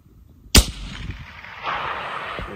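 A single sharp, loud rifle shot cracks out during a hunt for red hartebeest and gemsbok in Africa, followed by a fading rumble of echo across open country.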